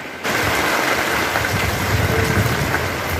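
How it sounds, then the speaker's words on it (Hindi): Heavy rain falling outside, a dense and steady hiss that starts abruptly and then holds constant, fairly loud and close, with no voices over it. "दोस्तों अभी बाहर में अच्छी खासी वर्षा हो रही है।"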